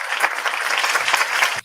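Comedy club audience clapping and making noise: a short burst of lively, uneven crowd applause with scattered claps standing out, cutting off abruptly at the end.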